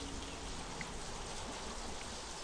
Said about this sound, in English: this rain is super loud as shit in my ear